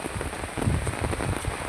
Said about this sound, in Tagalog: Lakas pa rin ng ulan.